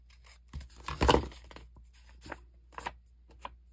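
An overlapping paper edge in a handmade journal is trimmed away in a few quiet, crisp snips and rustles close by.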